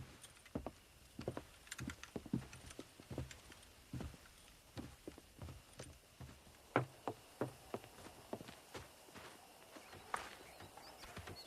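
Horse hooves clip-clopping in the Western video game Red Dead Redemption, a quiet, irregular series of distinct hoof strikes with soft ambient background, no speech.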